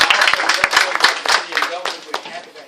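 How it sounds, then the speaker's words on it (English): A hall audience applauds a visiting scholar in a postdoctoral research program, with dense overlapping claps at a fairly close, steady level that thins slightly toward the end, and some talk mixed in. "Let's give him a round of applause."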